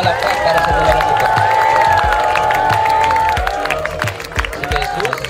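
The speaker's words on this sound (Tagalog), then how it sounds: "Let's give them a round of applause." Wedding guests clap and cheer for a newly married couple, a dense, steady wash of applause and crowd whoops with a few shouts rising above it, lasting the whole stretch at close range.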